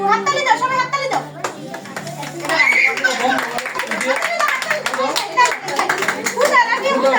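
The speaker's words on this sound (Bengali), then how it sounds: "হাততালি দাও সবাই হাততালি দাও।" Hands clap loosely and unevenly at a child's birthday celebration, mixed under lively chatter and children's voices throughout.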